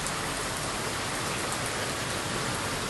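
Heavy rain pours down on flooding streets, a dense, unbroken hiss of water that stays steady and loud throughout with no other sound.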